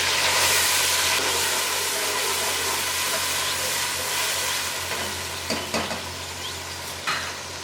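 Ground onion and tomato paste with garlic and ginger paste sizzling and frying steadily in a pan, a loud continuous hiss with a few brief stirring knocks near the end and no talking.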